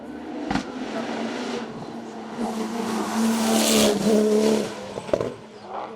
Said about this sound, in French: le champion de France en titre Nicolas Ververt termine à la seconde position du classement général au volant de sa Porsche.